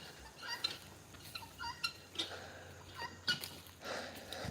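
Guinea fowl call at an animal sanctuary: quiet, scattered, harsh, rhythmic chattering bursts, heard from some distance over a soft low hum.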